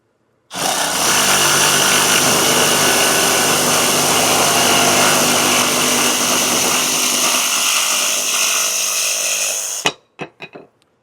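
A power saw cuts down the metal pole of a pedestal fan to about 16 inches, a loud, steady grinding buzz that runs unbroken for about nine seconds, then stops abruptly, followed by a few brief clunks.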